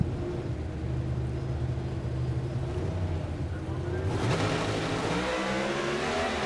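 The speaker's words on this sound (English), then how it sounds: "The two cars split off the starting line." Two NHRA Funny Car drag racers launch off the starting line with a dense, loud engine roar that surges and sharpens partway through, under an announcer's commentary.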